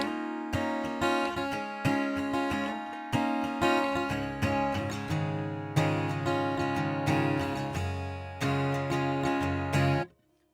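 An acoustic guitar plays the intro of a song, strummed chords in a steady rhythmic pattern with a slide, close and clear, ending abruptly.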